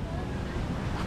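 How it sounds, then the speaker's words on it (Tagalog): Strong typhoon wind gusting in Nasugbu, a dense roaring rush buffeting the microphone, loud and steady throughout the short stretch. "dahil may bagyo nga, ang lalakas ng hangin eh"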